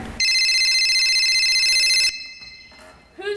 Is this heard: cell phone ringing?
yes